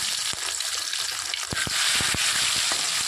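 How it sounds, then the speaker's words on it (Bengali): Tilapia pieces hit hot oil in a wok, setting off a loud, rising sizzle with several sharp crackles and pops, and no voices. "আমি এখানে মাছটা ভাজার জন্য দিয়ে দিচ্ছি"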